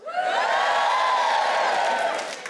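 A television studio audience on a comedy panel show breaks into a sustained burst of cheering and whoops, loud and close, swelling quickly and holding for a couple of seconds before tapering off.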